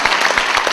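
Brief burst of congregational applause at a Korean church revival meeting, quick rhythmic clapping from a crowd, close and moderately loud.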